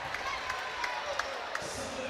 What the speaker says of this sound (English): And the crowd is going crazy here for Jones.